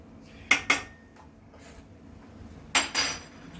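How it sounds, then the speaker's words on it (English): Oden being stirred in a pot, with two pairs of sharp metallic clinks of a utensil against the pot, near and clear, separated by a quieter stretch of faint movement. "we'll give it a quick stir"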